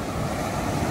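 Sea waves washing onto a drizzly surf beach at Honeymoon Bay in Yilan, heard as a steady, close, broadband wash of surf with wind noise buffeting the microphone and no voices.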